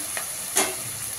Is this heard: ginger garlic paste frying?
yes